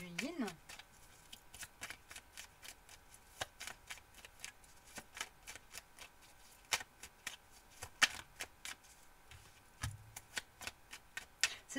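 Oracle cards being shuffled by hand, a rapid run of crisp riffling clicks and flicks that continues steadily throughout, close and fairly faint, with a few brief voice murmurs in the background.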